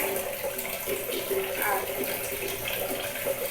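An iron pan is rinsed under a running tap, water pouring steadily and splashing close by for the whole stretch at moderate level.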